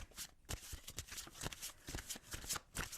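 Twin flame oracle cards are shuffled by hand in quick, rhythmic riffles and slaps, close up and fairly quiet, with no talking.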